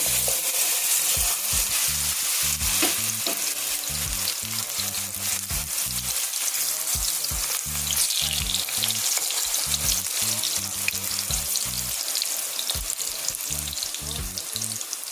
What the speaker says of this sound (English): today I'm gonna make some fried plantain